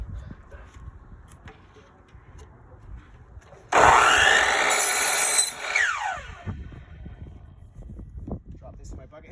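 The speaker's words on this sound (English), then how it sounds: "I'm going to trim this off, then I'm going to cut it to length." Power saw slices laminate stair nose to length, a sharp high whine lasting about two seconds and winding down, set between quieter shop sounds and speech.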